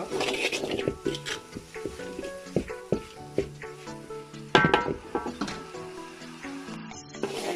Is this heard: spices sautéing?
yes